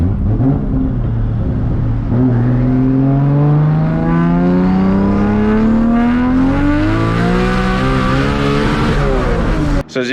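A Toyota Supra accelerates hard in a long first gear, its engine note loud and close, climbing steadily in pitch for several seconds before cutting off abruptly near the end.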